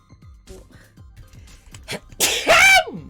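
A single loud, close sneeze bursts out near the end, rising sharply above ongoing chatter and scattered clicks from people talking nearby.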